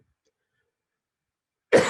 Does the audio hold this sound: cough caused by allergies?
yes